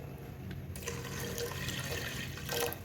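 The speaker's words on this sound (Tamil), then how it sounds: "தண்ணி ஊற்றிக்கிறேன்" Water poured into a pot of washed lentils for paruppu kulambu, a steady splashing, filling pour heard up close and continuing throughout with no talking.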